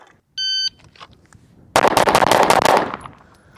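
A shot timer beeps once, then a quick string of pistol shots from a Race City Defense RC9 pistol rattles off in a tight, loud burst at a range drill, with no talk.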